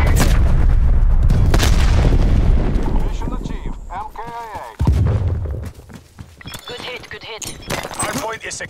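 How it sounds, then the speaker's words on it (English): Artillery fire in Call of Duty: Black Ops Cold War's Satellite map during Hardpoint, as loud, heavy booms rumble through a dense mix of gunfire and battle noise while radio-style voices talk over the action. "Sims requesting artillery action."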